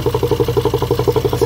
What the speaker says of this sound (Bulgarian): Има много интересен шум в двигателя, който сега ще ви демонстрирам.